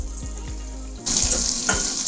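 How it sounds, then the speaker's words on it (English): Butter sizzles in a hot pan, a steady close hiss that grows brighter partway through, with faint clinks at the start. "heating and sizzling butter"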